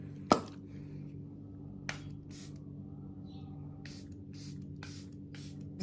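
A makeup setting spray fires in a quick series of short, crisp hissing bursts close to the mic in a quiet room, with a sharp click near the start.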